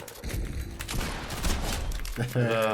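Fast bursts of automatic gunfire in Fortnite crackle through most of the moment, with excited voices talking over the shooting.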